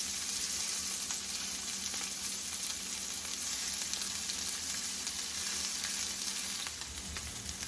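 Salmon pieces sizzle steadily in a hot pan, a dense, even frying hiss that holds at a constant level throughout with no voices over it.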